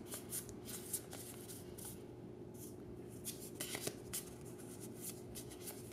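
Throne of Eldraine trading cards are handled and sorted up close, with soft repeated flicks and slides of card stock in an irregular rhythm and no talking.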